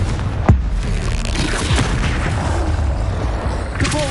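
A Confringo fire spell explosion in the video game Hogwarts Legacy bursts with one sharp boom near the start, then dense game ambience carries on with another crackle near the end.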